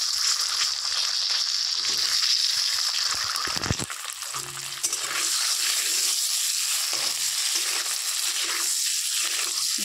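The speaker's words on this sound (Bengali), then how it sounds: "ডিমটা এবার আমি সুন্দর করে একটু ভেজে নিই।" Eggs fry in hot oil in a pan, giving a steady, loud, close sizzle throughout. Brief scraping stirs break in near the middle.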